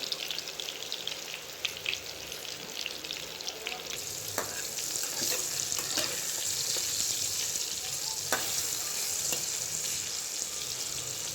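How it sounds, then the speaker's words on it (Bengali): Pumpkin pieces for kumror chhokka sizzle and crackle steadily in a frying pan, with scattered scraping taps as they are stirred and turned; the frying hiss grows slightly brighter partway through and no one speaks. "এই একইভাবে আমরা কুমড়োগুলিকে সুন্দরভাবে ভেজে"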